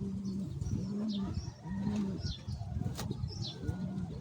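Taiwan-breed pigeons coo in repeated low, throaty phrases, close by, with faint chirps and a little wing flutter between the calls.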